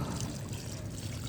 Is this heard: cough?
no